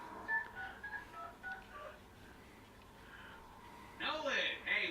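Telephone dialing in a Deadpool video game on Xbox 360: a quick run of keypad tones, then a pause and a louder burst of ring or line tones, all heard under talking.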